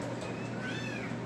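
A cat at an animal shelter in Georgia gives a single faint, drawn-out meow that rises and falls over a noisy, hissing room background.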